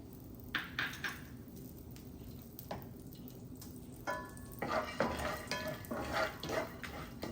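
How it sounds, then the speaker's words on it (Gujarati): Cashews frying in a pan for paneer pulao give a soft sizzle with intermittent louder bursts of crackling and stirring clatter, close and moderately quiet. "હવે આપણે કાજુને સીજવી દઈશું"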